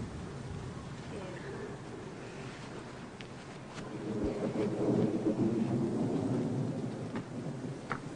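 Thunder rumbles low and swells in loudness over steady rain and gusting wind, a broad wash of storm noise that builds midway and lingers, with no talking over it.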